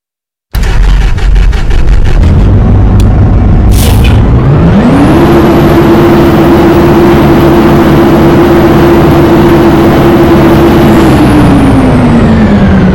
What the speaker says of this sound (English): let's turn on this engine. Oh yeah, listen to the Detroit Diesel.